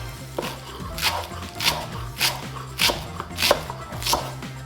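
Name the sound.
chopping a bunch of cilantro with a knife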